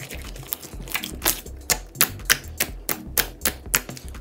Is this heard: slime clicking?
yes